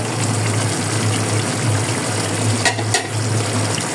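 Tengra fish bhuna curry stirred in a pan, a steady close bubbling sizzle with soft scraping strokes, plus a low hum throughout and two brief louder clatters near the end.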